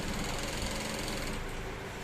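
Sewing machine stitching the side seams of a simple trouser, a dense continuous mechanical whir running at steady speed for the whole stretch, close up and alone.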